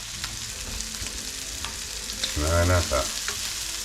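Shrimp sauté with garlic in a hot pan, a dense close sizzle and crackle swelling louder midway as they are stirred, with a short spoken word near the start.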